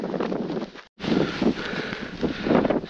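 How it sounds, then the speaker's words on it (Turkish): Steady, blustery cold wind buffeting the microphone with gusty rumbles at Mount Nemrut, nearly continuous apart from a brief drop-out, no voices. "Hava gerçekten soğuk ve ciddi şekilde rüzgar var."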